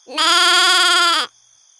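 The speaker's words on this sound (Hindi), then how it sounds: "तेंदुओं का आगमन बकरी समझ जाती है और जोरों से चिल्लाती है" A goat in an animated story bleats loudly as leopards approach its village, one sustained, wavering cry of just over a second, heard alone and close.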